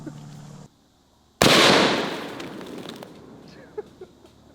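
A PTR-91 rifle fires one 155 grain Critical Defense round, a single loud, sharp blast followed by a long decaying outdoor echo and faint rattles afterward.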